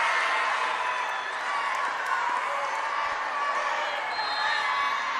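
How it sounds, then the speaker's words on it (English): Volleyball team cheering on a player at an indoor match, a steady wash of crowd noise with scattered shouts and claps, moderately distant, throughout. "Her team cheering her on."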